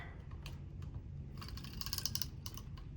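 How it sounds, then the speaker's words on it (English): Tape runner rolling adhesive onto the pages of an Archer & Olive notebook, soft close clicks and a faint ratcheting whir in short strokes, quiet against a low background hum. "we can put our tape runner here and here"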